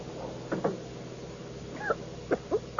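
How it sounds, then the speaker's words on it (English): A few short, scattered coughs and throat-clearing sounds over a low background hum, spaced irregularly across a few seconds. "you wouldn't be coughing if you let me keep the window open"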